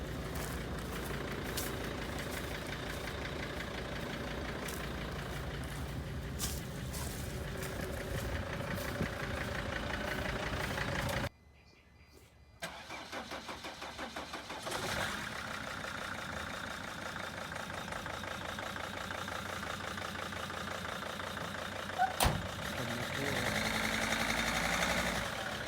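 A 2006 Mercedes T1N Sprinter van runs at a steady idle after being revived, puffing smoke from the back; the even mechanical drone drops out briefly partway through, then returns and continues to the end.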